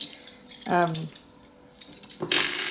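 Stainless steel spoons clink against each other while being sorted in a utensil drawer, two short metallic rattles with a pause between, close and bright.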